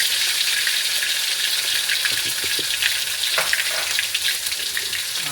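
Garlic, shallots and belacan fry in a pan, a loud dense continuous sizzle like heavy rain, close and unbroken, with a few faint stirring knocks.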